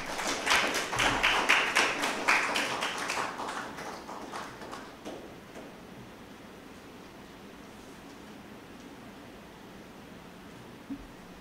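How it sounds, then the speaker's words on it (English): Lecture audience applauding a distinguished guest speaker on Garveyism and climate change, distinct claps rising loudly at first, then thinning and fading to quiet room noise after a few seconds, with no talk. "Let's please offer him a warm round of applause."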